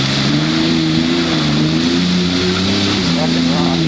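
A Ranger utility vehicle engine revs hard in deep marsh mud, with a steady, loud, close drone and shifting pitch throughout, and voices talk over it.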